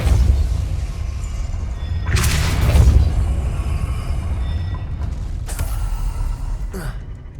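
A Depulso spell cast in Hogwarts Legacy, a whooshing magical burst with a low rumbling boom over a droning ambient bed, followed by a few lighter swishes and creaks.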